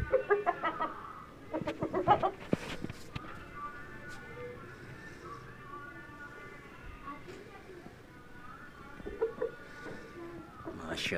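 Aseel chickens cluck in short bursts, with a few sharper calls near the start, while someone talks nearby over them.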